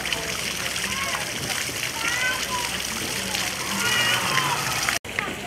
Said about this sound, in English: Nice elephant spitting out some water.